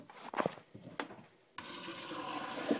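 Water pours and drains steadily through a strainer as cooked Kraft Dinner macaroni is strained from the pot, a sudden continuous splashing rush after a few clinks and handling sounds.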